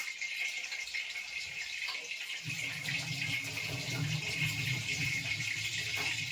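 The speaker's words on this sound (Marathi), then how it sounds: "मस्त आपण आणलेला फ्रेश कढीपत्ता सगळं मस्त असं धुवून टाकून त्याचे" Fresh curry leaves are rinsed under running water, a steady close splashing and gushing that starts partway through and continues to the end over faint background hiss.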